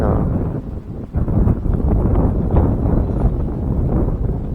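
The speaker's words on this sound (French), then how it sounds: "J'ai le vent en pleine gueule." Strong wind buffets a microphone outdoors at night on a riverbank during a fishing trip, producing a loud, continuous low rumble with gusty swells throughout.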